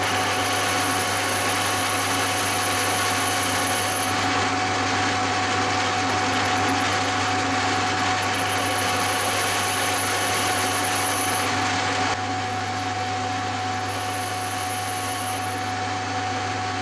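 A lathe turns down the rim of a metal part for a steampunk backlit digital clock, giving a steady loud machine drone with a constant hum and a high whining cutting tone throughout, no talk.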